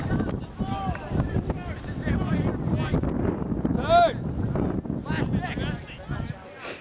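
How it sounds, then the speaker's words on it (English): Wind buffets the microphone over an outdoor college men's soccer field, a steady rushing gust under shouted talk and calls from people nearby. "The wind's kicked up."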